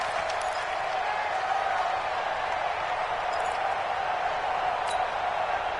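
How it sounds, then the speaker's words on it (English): Video game crowd in a PS4 football game swelling with cheers and applause ahead of a big third down, a steady dense roar throughout with a few faint pings. "The crowd getting into it as we come up on a big 3rd down."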